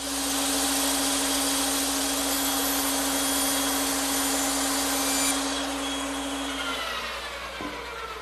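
A bandsaw cutting wooden chair slats at a 90-degree setting: a loud, steady motor whine with a constant hum, tapering off near the end as the cut finishes, with no voices.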